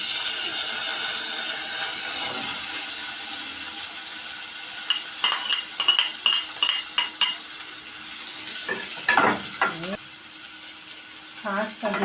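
Onions fry in butter in a pot, giving a soft continuous sizzle while a spoon stirs and scrapes against the metal in a rapid cluster of clinks and knocks, close by.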